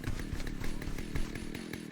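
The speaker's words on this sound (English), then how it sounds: "Chainsaw." A chainsaw in a video game, its engine running with a rough, buzzing drone and rhythmic pulses, loud and close throughout with no talking.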